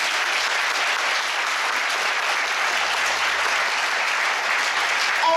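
A concert audience at a Bulgarian folk dance performance in Sofia gives sustained, even applause, a thick continuous wall of clapping that stays steady and loud from start to finish.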